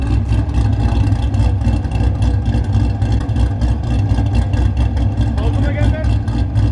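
A boosted Nissan 350Z with an aftermarket exhaust runs loud and close, a dense, steady low engine roar with rhythmic pulsing throughout and voices talking over it.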